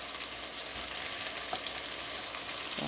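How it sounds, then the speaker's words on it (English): Red snapper searing in a hot pot gives a steady, dense sizzle with bright crackling hiss throughout, close and continuous with no talking. "As you can hear, the fish is searing"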